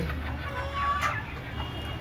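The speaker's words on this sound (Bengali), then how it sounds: "মুরগিগুলো এখন সন্ধ্যা হয়ে গেছে, ওদেরকে খাবার দিয়ে দিলাম, ওরা খাবার সেরে নিচ্ছে" Soft clucking from native chickens feeding at dusk amid steady rain noise, low and continuous, with a brief higher call midway.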